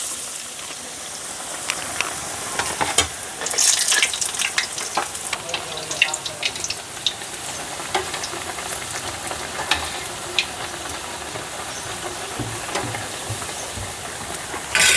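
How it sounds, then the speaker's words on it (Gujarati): A whole pakoda thickly coated in besan batter fries in hot oil, sizzling and bubbling steadily with occasional sharper crackles and light stirring, with no talking. "હું આખું પકોડું એક તળું છું"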